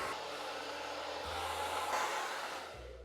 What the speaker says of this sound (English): when I'm blow drying, you'll notice that the end of my blow dryer never touches the bristles of the brush or the hair